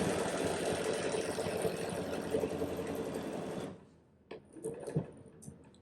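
Sewing machine stitching a quilted flower motif, running in a steady fast whir for nearly four seconds before stopping, followed by a few brief quieter stitches.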